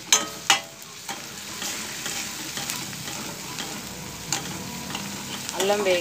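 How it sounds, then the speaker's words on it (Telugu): Ginger paste fries in a pan for a Telugu okra curry, a steady close sizzle with a few sharp utensil knocks near the start and light stirring scrapes throughout. "ఇప్పుడు కొంచెం అల్లం పేస్ట్ ఇప్పుడు బాగా వేగనిద్దామండి"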